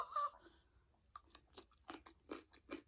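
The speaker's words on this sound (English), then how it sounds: "Crunchy, like, wonton strips." Crunchy fried wonton strips chewed close to the mic during a Panda Express meal, a short series of crisp crunching bites in quick succession with no talking.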